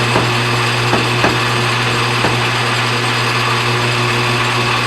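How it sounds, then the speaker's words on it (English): A power tool in a workshop runs steadily with a constant hum while a big center drill bores a hole in metal stock for washers, with a few faint clicks and scrapes over the drone and no talking. "We'll drill us a nice hole in this thing."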